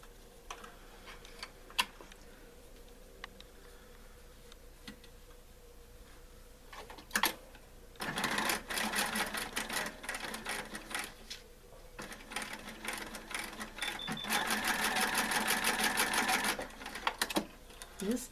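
A sewing machine runs a straight stitch on a coiled fabric basket, quiet clicks and ticks at first, then loud sustained bursts of rapid mechanical stitching with brief pauses, ending in a long steady run.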